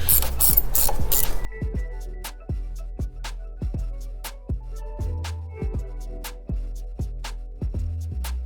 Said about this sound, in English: So I recommend you guys use a ratchet wrench.